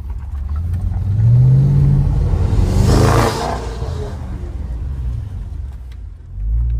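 A rebuilt Audi RS7 accelerates with a rising roar and a whooshing turbo spool that swells and fades over a few seconds, heard loud and close with a deep rumble underneath.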